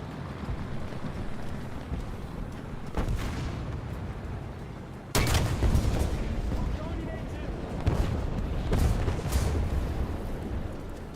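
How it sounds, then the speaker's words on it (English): Cannon fire in a horseshoe-grinding session of the video game, heavy booms landing at about 3, 5, 8 and 9 seconds over a constant rumbling game backdrop, loud and close with no talking. "This cannon sounds good."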